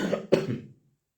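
A single close, loud cough bursts out in two quick chesty pushes and trails off into silence within a second.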